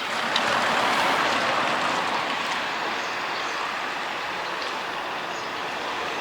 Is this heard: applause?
no